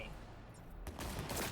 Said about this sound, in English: Why are you trying to shoot me?